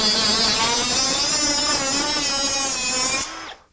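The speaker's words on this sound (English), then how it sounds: "So here's just cutting your typical conduit." A Ryobi ONE+ 18V HP brushless cut-off tool slices through 3/4 inch steel conduit, a loud, close, high whining grind held for about three seconds before the motor quickly spins down.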